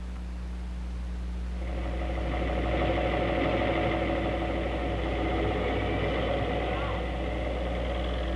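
The XO 121 engine runs on test equipment with a loud, steady drone and a deep low hum, its pitch and intensity rising gently after the first couple of seconds, then holding, with no talk.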